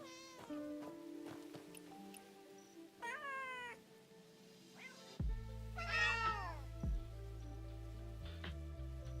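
Several cats meow repeatedly, their rising and falling cries overlapping with some caterwauling, fairly close and clear over a steady low background hum, with no talking.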